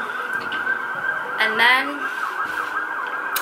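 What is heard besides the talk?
emergency vehicle sirens passing outside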